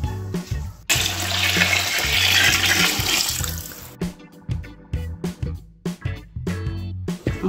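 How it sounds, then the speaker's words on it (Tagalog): Plenty of water is poured from a tap into a large cooking pot for Filipino goto with egg. A loud, continuous rush runs for about three seconds, then gives way to splashing and trickling bursts, close by and with no talking. "Sasalin muna natin siya sa malaking kasirola at saka lalagyan ng tubig."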